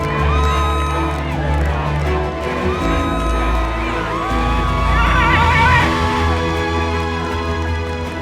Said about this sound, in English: I can just hear the crowd building